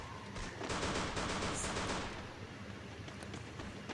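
Rapid G18 pistol gunfire in a shooting video game: a dense, continuous burst of fast shots with crackling impacts, loudest in the first two seconds, then thinner scattered pops, with no talk.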